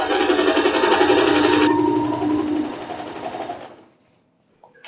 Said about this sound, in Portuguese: E a gente vem costurando, costura reta normal.